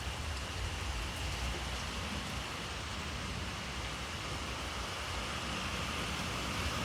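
Heavy summer rain pours down in a steady, even hiss of drops on surfaces, unbroken and moderately loud from start to finish, with no one speaking.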